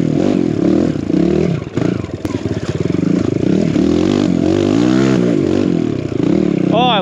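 An enduro motorcycle fitted with sticky tires revs hard on a trail, its engine note rising and falling through repeated throttle blips and climbs, close and loud with some clattering.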